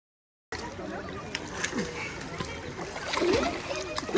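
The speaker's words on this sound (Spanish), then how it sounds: "Aquí ya estamos dando un paseo en lancha." Paddling a small boat on water, with splashes and sloshing from the strokes close by, some light voices underneath, and the sound getting a little stronger toward the end.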